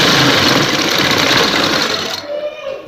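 A sewing machine runs steadily, stitching a folded fabric strip onto pleats along a sleeve cuff. The motor whirs loudly and continuously for about two seconds, then cuts off, leaving quiet room sound.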